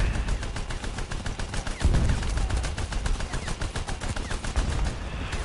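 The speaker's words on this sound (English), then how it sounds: "who's machine gunning me?" Rapid, continuous machine gun fire rattles without pause in the War Thunder video game during an April Fools event, loud and dense, with heavy low thuds under the fast bursts.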